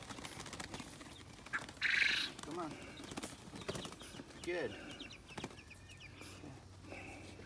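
Quails carried out to an outdoor aviary give scattered squawks and calls, with a burst of fluttering wings and rustling, while a person talks and coaxes them nearby.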